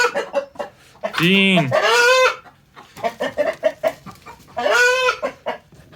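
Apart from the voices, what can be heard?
hen clucking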